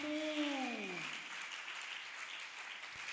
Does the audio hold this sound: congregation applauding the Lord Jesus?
yes